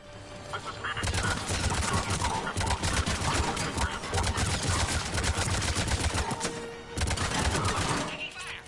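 Sustained gunfire from a Mass Effect 3 battle, dense rapid bursts and shots running almost continuously for most of the stretch with a brief lull near the end, loud and busy, with some game voice chatter mixed in.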